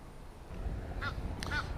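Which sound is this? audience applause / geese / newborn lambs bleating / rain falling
geese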